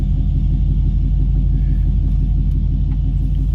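A modified, louder-than-stock BMW engine rumbles steadily while driving, a deep, even, close drone with no breaks and no one talking.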